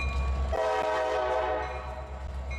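An Ohio Central SD40-2 locomotive sounds its horn as the train passes, a loud chord blaring steadily after a low rumble and lingering over rolling rail noise.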